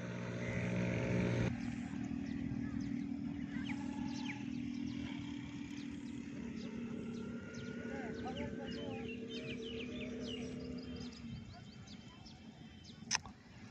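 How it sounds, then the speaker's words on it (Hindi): A tractor drives along a village road flooded after rain, giving a steady low engine drone that holds through most of the stretch, with birds chirping over it and a brief sharp knock near the end. "देख रहे हैं जी, ट्रैक्टर जा रहा है।"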